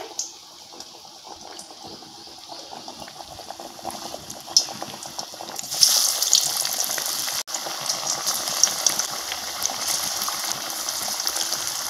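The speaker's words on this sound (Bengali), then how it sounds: "টমেটোর চপগুলো কড়াতে দিয়ে নিয়েছি, তেলে দিয়ে দিয়েছি আর এই দেখুন হালকা আঁচে কিন্তু ভেজে নিচ্ছি।" Raw green tomato chops fry in oil in a kadai over low heat, giving a steady crackling sizzle that swells to a louder, denser hiss partway through, with no talking.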